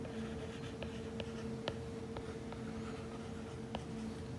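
Marker or chalk strokes on a classroom board, quiet scratchy taps and short scribbles spread across a few seconds under a steady low background hum, with no one talking.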